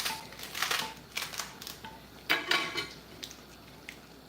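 Okra tops are sliced off with a knife, giving several short, close, crisp cutting taps against a board in quick clusters, with no talk over them.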